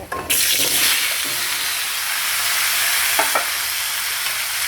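Panch phoron spices and a vegetable curry of drumstick, pumpkin and potato frying in a pan: a sharp burst of sizzle at the start settles into a steady crackling hiss with a few stirring scrapes.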